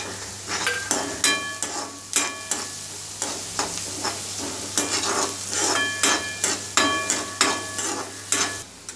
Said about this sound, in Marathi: कांदा आता आपला चांगला फ्राय झालाय